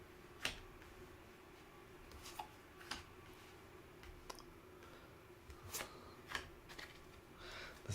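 An old, worn tarot deck gets shuffled softly and close, with scattered light card riffles and taps spread across a quiet room.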